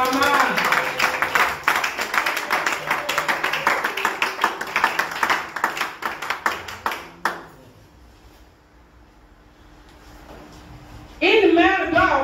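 Church congregation at a Mother's Day service clapping in a rapid, rhythmic burst for several seconds before the applause fades to quiet room tone, then a voice begins speaking near the end.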